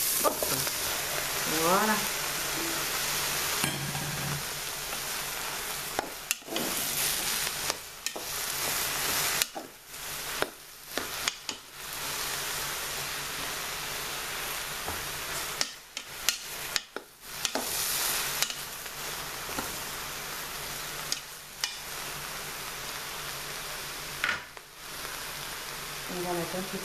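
Aubergines sizzle and fry steadily in a pan for the whole stretch, a dense continuous crackle with brief dips where something is stirred or moved; a voice speaks briefly over it.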